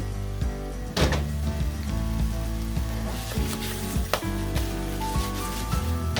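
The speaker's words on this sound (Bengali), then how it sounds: "একদম শুকনা ভাজা ভাজা করব।" Apple pieces, skin on, dry-frying for apple pickle in a pan over high heat give a steady close sizzle, with sharp clatters of stirring near the one-second and four-second marks.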